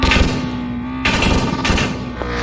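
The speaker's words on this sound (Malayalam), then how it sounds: "നിങ്ങൾ ആ എക്സോസ്റ്റിലൂടെ നോക്കിയാൽ പോപ്സ് ആൻഡ് ബാങ്ക്സ് കാണാം." A modded car in the Elite Autos Brazil video game drones with a steady engine tone, broken by a few sharp, loud exhaust pops and bangs spaced through the moment.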